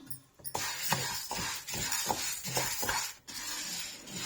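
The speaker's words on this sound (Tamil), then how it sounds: "நம்ம ஃபர்ஸ்ட் தோரம்பருப்பை நல்லா ட்ரையா வறுத்து எடுத்துக்கலாம்." Toor dal is dry-roasted in a hot pan without oil, making rhythmic stirring scrapes and light rattling of the lentils against the metal about every half second. The sound is close and quiet over a faint sizzle, with no talking.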